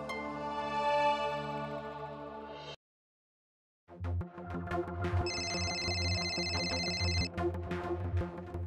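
An electronic phone ring sounds on an outgoing call in a Marathi TV serial scene, a steady repeated tone over background music that follows a brief silence.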